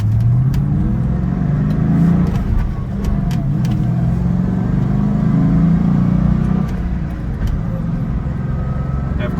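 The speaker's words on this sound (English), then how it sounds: "why don't we take it up the road once to show you how good she shifts" A 2004 Ford Mustang GT accelerating along a road, its engine rising in pitch and dropping back at gear changes, loud and continuous from inside the car, with some talking at times.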